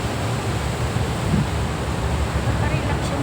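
Sea waves surge and wash in a continuous broadband roar seen from a ferry near Macau, mixed with wind buffeting the microphone and steady engine rumble.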